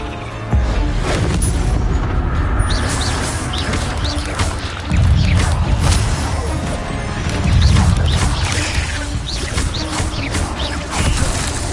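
Spell effects from Hogwarts Legacy, including the Incendio fire spell, come as loud crashing booms and bursts over a steady rumbling game backdrop, several impacts spread across the stretch.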